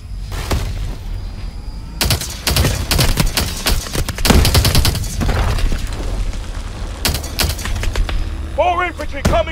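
Heavy gunfire in the video game Call of Duty Advanced Warfare, with dense bursts of automatic fire and loud shots in clusters through a battle, mixed with booms and shouted combat voices.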